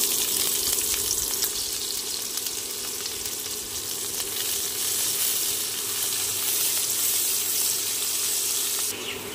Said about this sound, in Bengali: কড়াতে তেল গরম করে নিয়েছি, দিয়ে দিচ্ছি একটা বড় সাইজের পেঁয়াজ কুচি